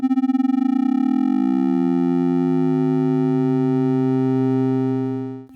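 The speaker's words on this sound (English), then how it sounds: "if you crank up the rate of the LFO, it begins to add harmonics to the sound, and you enter in the domain of AM synthesis" Synthesizer tone with a fast LFO driving its amplitude into AM synthesis, one steady note whose sidebands slowly spread apart into a widening, buzzy shimmer for about five seconds, loud and alone.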